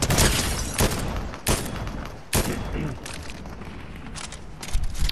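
Bursts of rapid Fortnite gunfire crackle and boom in quick succession, loud and dense, with sharp blasts recurring every second or so.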